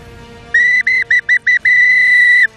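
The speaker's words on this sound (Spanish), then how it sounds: "Y aquí estoy con el pito, con el silbato" A referee-style whistle blown loudly and close in a pattern of one long blast, then four short sharp toots, then a final long blast, with nothing else sounding.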